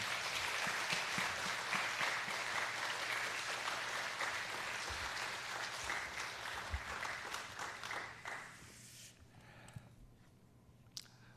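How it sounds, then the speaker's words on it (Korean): Warm applause from a church congregation welcoming a pastor to the front during a Sunday evening worship service, a dense steady wash of clapping that thins and fades out near the end, leaving faint scattered claps. "나오실 때 큰 박수로 모시겠습니다."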